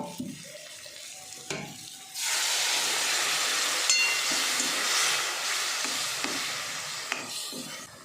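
A pan of potatoes sizzles quietly, then water is poured in and a loud, steady hiss and bubbling rushes up and continues, with a few clinks of stirring.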